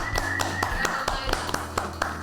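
A small group clapping in an even rhythm of distinct, close hand claps, with a voice speaking underneath, at an indoor Christmas gathering.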